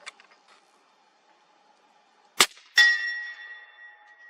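Two sharp, distant-sounding reports from a suppressed .308 rifle, each followed closely by a bright metallic clang from a steel target about 120 yards away, the second ring lingering and slowly fading.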